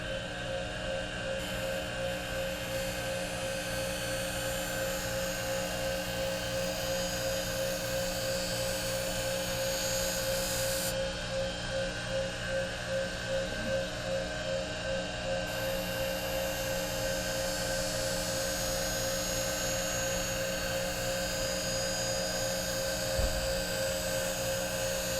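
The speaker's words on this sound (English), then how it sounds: "right now what I'm doing is taking off the little microscopic burrs that form from the sharpening." Figure skate blade getting a finishing pass on a sharpening machine to remove fine burrs; a steady high-pitched motor whine with grinding hiss, constant and close, with no voices.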